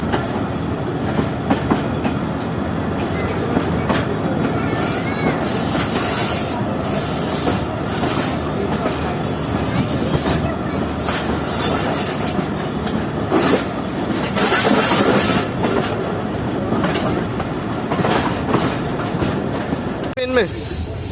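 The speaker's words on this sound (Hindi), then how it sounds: "तो ये ट्रेन अब ट्रैक चेंज करेगी और लगेगी प्लेटफॉर्म लाइन पर।" Mohen Jo Daro passenger train, a privatized Karachi to Sehwan service, rolls over switches while changing tracks into a platform line, with a steady loud rumble, rhythmic clickety-clack and occasional wheel squeal and rubbing throughout.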